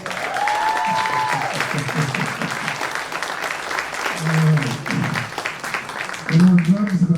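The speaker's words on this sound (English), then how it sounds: "Let's give her another round of applause." An audience applauds a woman trombone player at a college jazz band's spring concert, a steady wash of clapping from the crowd while a voice talks over it.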